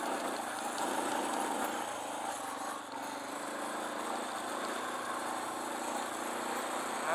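A Suzuki DR650 dual-sport motorcycle riding on groomed Mojave desert trails, its single-cylinder engine a steady, continuous drone pulling through the low gears, close and fairly even in loudness.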